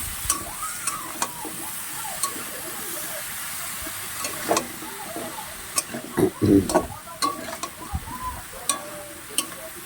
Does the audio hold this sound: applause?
no